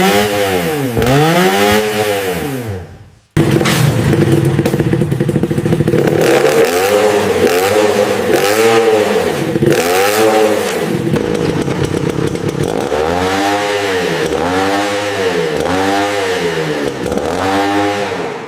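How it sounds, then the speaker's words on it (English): An old moped engine in a school workshop is held at full throttle, a loud, close, raspy two-stroke whine that surges and falls in repeated revving cycles, cutting out briefly near the start before roaring again. "She relentlessly twisted the throttle until smoke billowed out, filling the entire school workshop."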